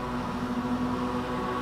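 A race car engine in a sim racing game at the Red Bull Ring drones loudly and steadily, a sustained tonal hum holding near one pitch for the whole moment, with no talk over it.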